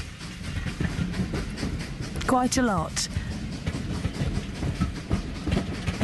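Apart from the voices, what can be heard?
miniature railway train running in a park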